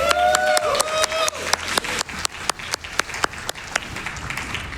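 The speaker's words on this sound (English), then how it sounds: "It makes me so happy to hear claps for Loki's demise." A smattering of claps rings out in sharp, separate bursts over a game-like musical tone from Bayonetta 2 at a speedrun event, fading in and out rather than building into full applause.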